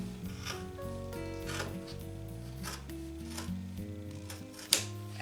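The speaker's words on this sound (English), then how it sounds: "I'm just going to cut this like this" Scissors snip and rub through fabric in a quiet run of short cuts, close and faint, with a sharper click near the end.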